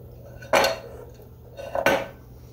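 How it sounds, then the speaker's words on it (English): A utensil scrapes brownie batter from a bowl in two short clinking strokes, close and clear in an otherwise quiet kitchen. "Just scrape the rest out here."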